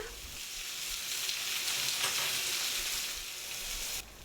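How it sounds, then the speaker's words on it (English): Eggplant, zucchini and mushroom sizzle loudly in sesame oil in a frying pan while being stirred, a steady close hiss that swells through the middle and drops suddenly near the end. "Add zucchini and mushroom and stir them."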